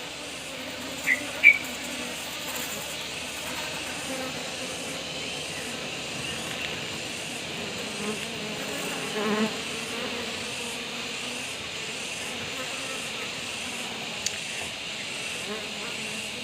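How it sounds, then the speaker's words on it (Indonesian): A steady, droning buzz of many honeybee drones inside a hive, constant and moderately loud, with a couple of brief clicks near the start. "di sini untuk lebah drone atau lebah jantan juga banyak banget ya"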